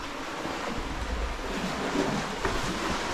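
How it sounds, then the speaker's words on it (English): Sea water surging and splashing inside Sawney Bean's coastal cave in Scotland, a steady, close broadband wash of surf with rougher swells throughout. "Oh, it's fairly splashing now."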